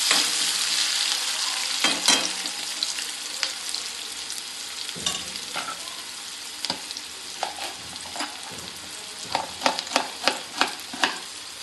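Garlic and chopped onion fry in a pan on a gas stove, a constant hissing sizzle with scattered scrapes and clicks of stirring that grow more frequent toward the end; no talk.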